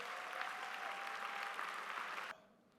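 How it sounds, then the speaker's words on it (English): A church congregation claps for mothers at a Mother's Day service, dense steady applause filling the room before cutting off abruptly near the end. "Come on, one more great clap for all of our mothers."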